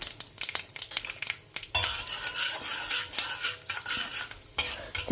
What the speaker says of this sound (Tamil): ஸோ நான் இப்போ கடுகு போட்டிருக்கேன், பொரியறது